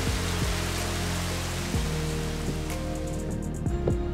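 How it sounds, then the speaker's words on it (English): Steady, heavy rain pours down as a dense wash of noise, heard from inside a moving vehicle near Sodwana Bay, with a low, repeating thud beneath it and no talk. "It promised it was gonna rain, and it is raining."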